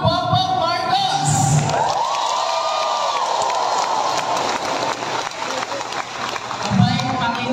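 A large crowd applauds and cheers loudly for President Bongbong Marcos at a political gathering in Batangas. The sound is a dense wash of clapping with whoops and shouts, and it holds steady throughout.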